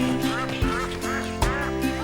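A mother duck's quacks in a French children's song about little ducks leaving the farm, sounding as several clear, close calls over a steady musical backing.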